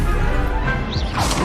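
A Confringo spell cast in a Harry Potter video game, heard as a short crashing whoosh of magic with a swishing sweep near the end, loud and close over steady game background.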